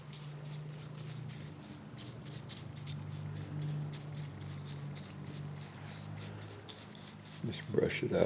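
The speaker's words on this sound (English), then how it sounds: "Just brush it out evenly all the way around." Varnish being brushed onto a wooden bottle-top Indian figure: soft, steady scratchy bristle strokes over a low hum, with a louder rustle near the end.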